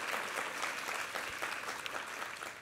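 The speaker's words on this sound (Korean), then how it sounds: "3부 4부 수고하실 텐데 한번 힘찬 격려의 박수 부탁합니다" A church congregation applauding a chamber trio of violin, cello and piano after a worship performance, a moderately quiet, steady spread of clapping with occasional louder individual claps standing out.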